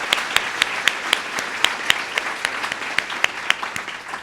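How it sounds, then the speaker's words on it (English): Audience applause after a speech at a Nashville event, a steady wash of many hands clapping with sharper individual claps popping out, fairly close and sustained throughout with no speech over it. "Let's give them a round of applause."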